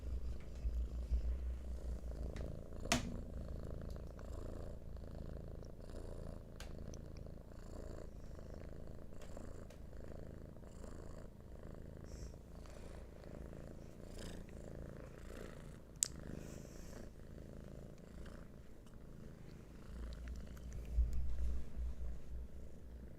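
Cats purring close to the microphone indoors, a soft, steady low rumble that continues throughout with faint background noise and a couple of small clicks.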